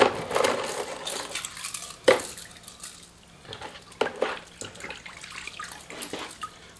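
Water from a shop sink tap splashes over steel armor plates just pulled from vinegar, close and irregular, with loud metallic clanks and knocks as the plates shift under the stream.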